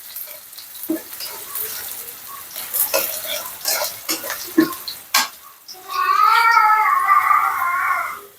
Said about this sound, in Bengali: পেঁয়াজ দিয়ে আমি মশলাটা কষিয়ে নিব